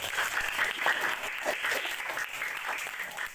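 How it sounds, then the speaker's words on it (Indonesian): Classroom applause from a group of schoolchildren, steady dense clapping that carries on evenly for about three seconds with no talking over it. "Tepuk tangan dulu."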